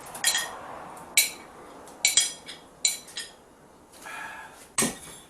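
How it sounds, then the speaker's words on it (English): A spoon clinks and scrapes against a bowl while defrosted strawberries are stirred into a strawberry parfait mix, giving sharp separate knocks every second or so with quiet gaps and no talking. "And just stir them around"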